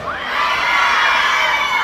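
A large crowd cheers and shouts, with high excited voices and whoops, at an outdoor New Year celebration in Artashat. The roar is loud, dense and continuous throughout, with no single voice standing out.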